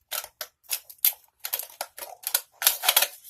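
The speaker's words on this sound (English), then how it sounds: "scissors that don't want to cut through aluminum." Scissors slicing through thin aluminum sheet in a series of short, crisp snipping bursts with brief gaps between them, close by and fairly quiet, with no talking.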